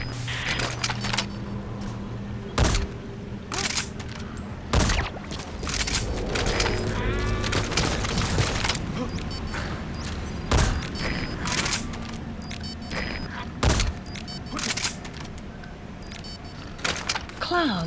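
Gunfire volleys in Metal Gear Solid V: The Phantom Pain: loud, sharp shots burst out at irregular intervals over a busy background ambience, with some talk in between.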